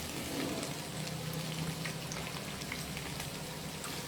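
Bread fries in oil until brown, producing a faint, even hiss and soft bubbling crackle that holds steady throughout with no voices.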